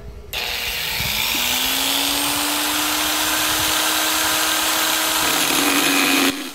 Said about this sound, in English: Let's grind the copper that holds the rotor and the PCB board.